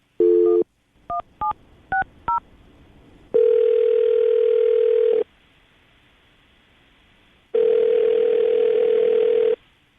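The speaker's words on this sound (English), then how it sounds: "we'll call her right now, see if we can get her on the phone" A short burst of telephone keypad beeps, then two long, steady ringback tones separated by a pause, clear and close.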